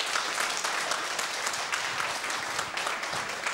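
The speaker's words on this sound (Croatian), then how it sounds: "To vredi pljeska." Steady audience applause at a folk music show after a young tamburica group is introduced, dense clapping holding an even level throughout with no voices over it.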